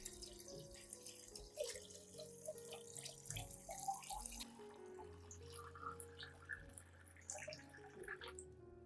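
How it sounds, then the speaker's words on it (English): Water runs and splashes steadily into a container, a continuous trickling pour with small drips and clinks throughout, fairly quiet and close. "Add 1 liter of clean water to dilute the solution."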